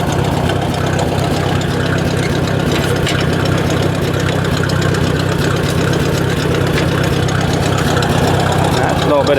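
A Ford 800 tractor engine runs rough at a steady idle, a loud, continuous low rumble with uneven knocking throughout, heard close up with no voices.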